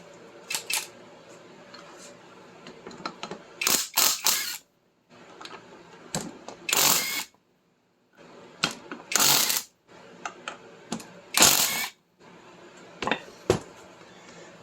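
A wrench works on the front hub nuts of a Triumph Spitfire, giving several sharp ratcheting clicks and bursts separated by quiet gaps, close and fairly loud.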